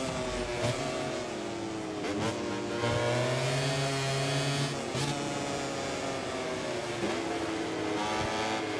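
Racing motorcycle engines in MotoGP 24 whine and rev steadily at high pitch, gear changes shifting the tone as bikes run close together, one rider pulling away on a straight, loud and continuous without talk.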